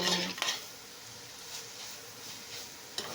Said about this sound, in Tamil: போட்டதுக்கப்புறம் கொஞ்சம் கிளறி கொடுத்துக்கோங்க